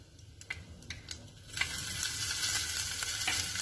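Green chilies hit hot ghee with cumin for a tempering, starting with a few scattered crackles and then swelling into a steady, loud, continuous sizzle that fills the rest of the clip.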